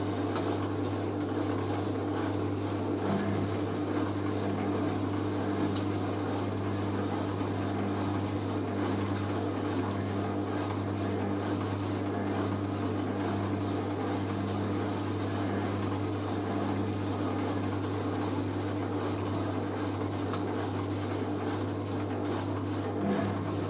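A Hoover A3060 Electronic 1100 washing machine running a wash with a jumbo sofa throw inside, a steady low hum and churning drone close by, continuous and even with no talking.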